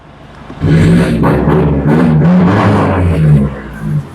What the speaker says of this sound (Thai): คันนี้ท่อซิ่งนะเดี๋ยวไว้เบิ้ลท่อให้ฟัง